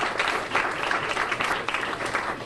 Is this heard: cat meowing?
no